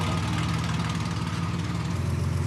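A rally car's engine idles steadily at close range, a loud, even, purring rumble that holds without revving throughout, with no voices over it.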